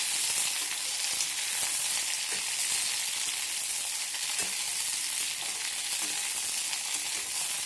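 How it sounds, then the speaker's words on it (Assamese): Okra sizzles and crackles steadily in hot oil over a high flame, a dense continuous frying hiss close by with no voices. "এতিয়া মই ইয়াতে ভেন্দিখিনি ফ্ৰাই কৰি ল'ম।"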